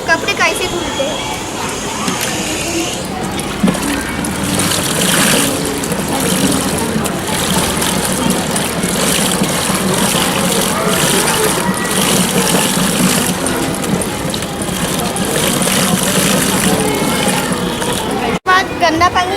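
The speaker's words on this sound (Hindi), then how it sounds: "देखिए जब अपन इसमें कपड़े डालते हैं तो कपड़े कैसे धुलते हैं।" A bicycle-powered homemade washing machine churns clothes in water, giving a steady loud swishing and sloshing wash with a mechanical hum, running continuously for nearly twenty seconds.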